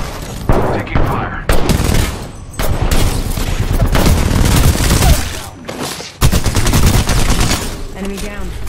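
Heavy automatic gunfire in a shooter video game rattles in loud sustained bursts with short pauses between volleys, close and dense, with voice callouts heard amid the shooting.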